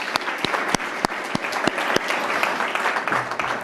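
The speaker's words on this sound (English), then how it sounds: "Please give yourselves a round of applause at this moment" An audience at an Internet Week festival keynote claps together, a steady wash of many hands with a few sharp louder claps standing out near the front, sustained without voices.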